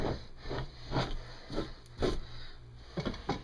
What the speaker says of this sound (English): You can see that fat that was underneath that armpit. We'll scrape that off.